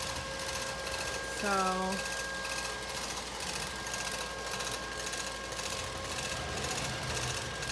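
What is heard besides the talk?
Neato Botvac robotic vacuum cleaner running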